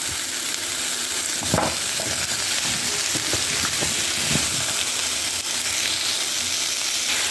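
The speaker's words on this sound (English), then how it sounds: "I am cooking off my pumpkin in the pot." Pumpkin and vegetables cooking in a pot, a steady close sizzling hiss with a few brief stirring clatters and scrapes in the middle, no talk.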